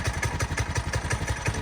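A Trailmaster Mid XRX go-kart engine idles steadily just after starting, its choke pulled out, producing a close, loud, rhythmic thumping putter with clattery mechanical overtones and no voices.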